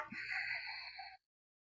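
Deep breathing during a belly-slimming exercise routine for menopausal women, one long audible breath lasting about a second, close to the mic, then silence.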